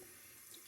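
Water runs steadily from a sink faucet while a razor handle is rinsed, a faint, brief, continuous splashing stream.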